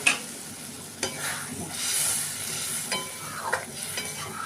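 Potol shrimp curry being stirred in a pan just after water goes in, a soft scraping stir with faint sizzling and a few sharper utensil clicks, fairly quiet throughout with no talking.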